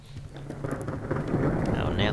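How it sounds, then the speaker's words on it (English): Thunderstorm in the survival game Subsistence: a steady wash of rain with deep rumbling thunder that swells toward the end, continuous and fairly loud. "Oh, now the storm comes."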